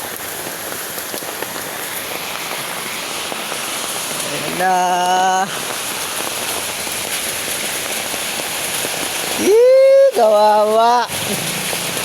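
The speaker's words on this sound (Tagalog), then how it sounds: "Grabe ang ulan mga kabrad." Heavy rain pours down steadily in a dense, even hiss that never lets up, while a couple of voices speak briefly over it.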